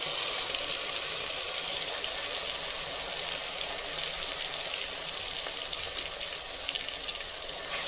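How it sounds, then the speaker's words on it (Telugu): Tomatoes sizzling in hot oil in a pan while cooking chicken biryani, a continuous bright crackling hiss that stays steady and close throughout, with no talking. "టమాటో బాగా ఫ్రై అవుతుంది."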